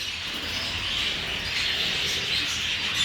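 Caged canaries in a pet shop chirp and tweet continuously, a dense, bright chorus of small birds filling the room with no speech.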